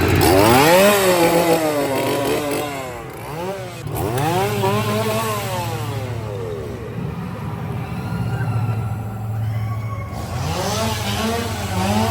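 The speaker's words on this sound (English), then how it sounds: "The sounds of chainsaws beckon us." Several chainsaws whine and rev up and down repeatedly at a Halloween horror event, loud and close, their pitch sweeping in wavy surges with a brief dip midway.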